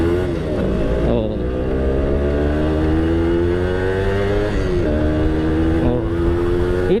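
A Yamaha F1ZR two-stroke motorcycle engine revs close by, its buzzy, raspy pitch climbing steadily, dipping briefly, then rising again in repeated throttle pulls, loud with no talk over it.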